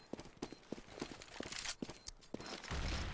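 Counter-Strike match gunfire cracks out as a quick series of sharp, evenly spaced shots, close and punchy, ending in a louder burst of noise.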